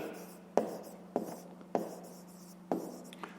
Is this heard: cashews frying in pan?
no